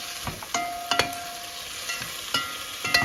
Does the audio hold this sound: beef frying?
yes